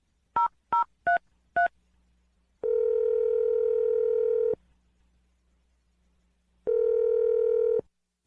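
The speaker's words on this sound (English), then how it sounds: "Dial the phone number right now." Four short touch-tone beeps of a phone number being dialed, followed by two long steady telephone tones separated by a pause, clear and close with no talking.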